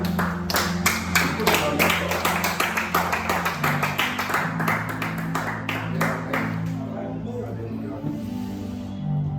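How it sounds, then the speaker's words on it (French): A church congregation claps in a quick steady rhythm, loud and close, with voices over the top. The clapping thins out and fades near the end. "Est-ce qu'on peut acclamer le Seigneur? Acclame le Seigneur."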